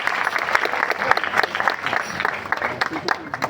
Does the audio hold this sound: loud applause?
yes